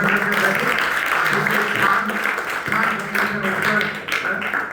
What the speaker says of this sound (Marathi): बरोबर आहे अगदी बरोबर आहे टाळ्या वाजवा